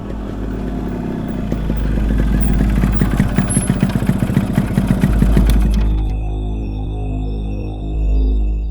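An old motorcycle engine runs with a steady, rough, clattering mid-pitched chug that builds and then cuts off, leaving a lower hum.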